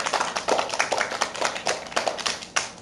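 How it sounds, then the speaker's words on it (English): Children in a classroom lesson give themselves a round of applause: a handful of sharp, uneven claps, close and fairly quiet, with no voices over them. "Give yourselves a round of applause."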